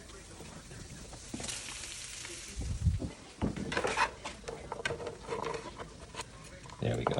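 Meat frying in a pan with garlic and vegetables being added, a soft continuous sizzle with stirring clatter and scraping bursts, while a person talks over it.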